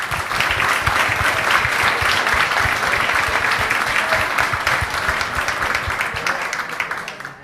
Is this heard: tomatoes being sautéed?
no